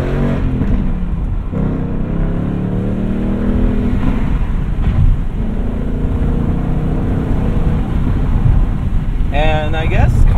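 A 2020 Ford Mustang Bullitt's engine drones steadily from inside the car during a drive, with a constant loud rumble and a slight rise near the end, as a person talks over it.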